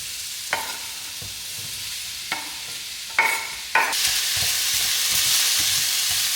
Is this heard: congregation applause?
no